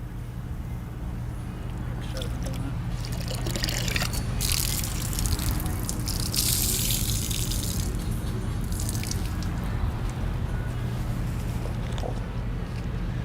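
Sloshing, dripping water as a car wash mitt is rinsed and rubbed against a dirt trap in a bucket, continuous splashing with bursts of louder agitation, under a low steady background hum.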